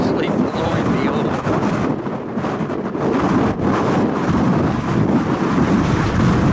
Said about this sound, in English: There's kind of an idea of how windy it is.